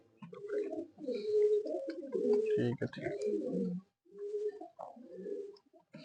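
Pigeons, including a large red Cheena pigeon, coo in low, rolling phrases, one after another, with a few brief spoken words mixed in.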